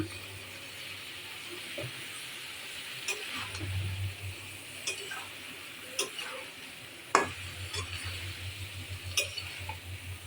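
Prawns sizzle gently in a pan while a utensil stirs them, a faint, steady frying hiss under soft scrapes and a few sharp ticks and clinks, quiet and close with no talk.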